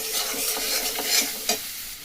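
Biryani masala being stirred and mixed in a hot pan, with steady scraping and soft sizzling that ends in a sharper scrape near the close, heard up close.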